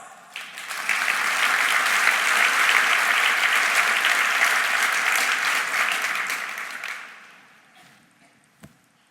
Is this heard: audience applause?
yes